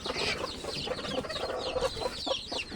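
Hens cluck busily and close by on a farm, a dense, steady chorus of overlapping clucks running without pause and with no talking.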